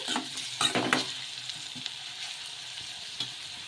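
Carrot and tomato pieces for gobi manchurian are stirred in a frying pan, a few quick scraping clatters up front, then a soft, steady sizzle with light scrapes.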